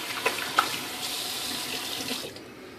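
A cold-water tap runs steadily for a shave in a hot Texas bathroom, a soft continuous gush of moderate loudness with a few brief splashes near the start, no talking.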